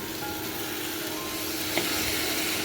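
Chopped tomatoes sizzling in oil with spice masala in a pan for a Bengali fish curry, a continuous close frying hiss with a faint scrape of stirring, no talking.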